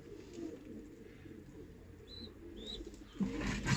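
Soft, low cooing of ornamental and tumbler pigeons in a pigeon loft rumbles continuously in the background, with a couple of faint high chirps and a brief rustle near the end.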